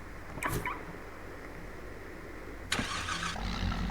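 A car engine in the game Car Parking Multiplayer cranks and catches with a sharp burst, then settles into a low idle, following an earlier brief click amid a steady background hum.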